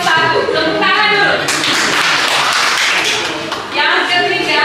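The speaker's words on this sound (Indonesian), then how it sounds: "Tepuk tangan dulu." Students in a classroom clap together for a brief burst in the middle, surrounded by talking voices before and after.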